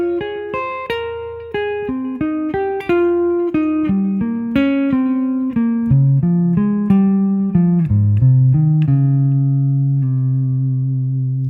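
A clean guitar phrase repeats as a descending sequence, each run of plucked notes moving down through the diatonic scale degrees and adapting its intervals, close and clear, ending on a long sustained low note.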